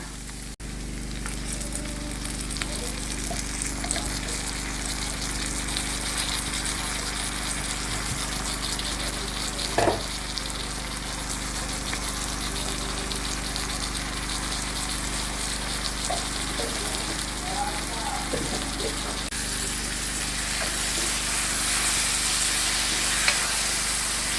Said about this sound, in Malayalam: നമ്മൾ അരച്ച് വെച്ചേക്കുന്ന തക്കാളി ചേർക്കുക